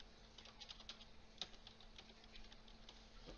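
Fingers tap quickly on a computer keyboard, a faint, uneven patter of light key clicks with one louder tap midway.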